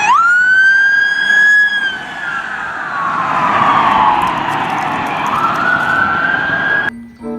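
Toy police car siren wailing loudly and close, a continuous rising and falling electronic tone that cuts off abruptly near the end.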